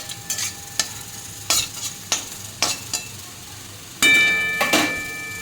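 A utensil stirs garlic in butter over a high flame, with repeated spoon knocks and scrapes against the pan over a steady sizzle that grows louder and more intense near the end, close up and without talk.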